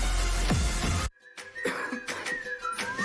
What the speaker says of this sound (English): Coughing and throat feeling sore?